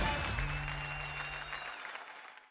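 A studio audience at the India's Got Talent season 11 show claps in a thick burst of applause over background music. The applause slowly fades out over a couple of seconds.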